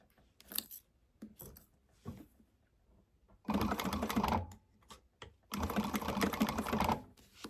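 A sewing machine stitches fabric along a seam allowance, first in short stop-start bursts, then in two sustained runs of rapid mechanical whirring, close and fairly loud.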